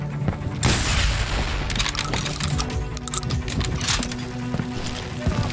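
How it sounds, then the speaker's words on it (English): Rapid gunfire rattles through a street shootout in Call of Juarez: Gunslinger, with booming shots and sharp cracks layered over continuous game noise. "They're shooting in the street!"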